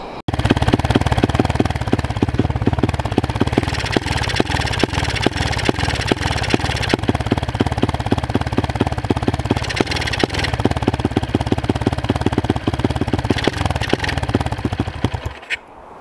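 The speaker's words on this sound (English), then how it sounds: "when I go to give it throttle, it just bogs out, as you guys can hear. But it'll idle fine." A motorcycle engine runs loud and close with a steady, rapid pulsing exhaust beat. It bogs when throttled but idles fine, then cuts off abruptly near the end.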